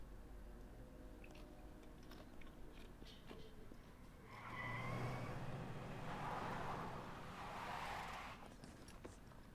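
A truck drives through a Xenoblade Chronicles X game world, a low engine rumble swelling into a broad, rushing surge midway before easing off, with faint clicks scattered around it.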